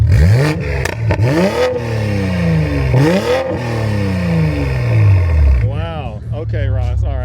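A modified Toyota Supra engine revs hard several times, each rev swooping up and falling back in a loud roar, followed by a few quicker blips near the end.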